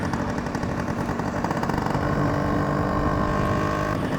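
A Yamaha RX100 two-stroke motorcycle idles close by, its engine and exhaust giving a steady, busy rattling burble with a slight rise in pitch partway through.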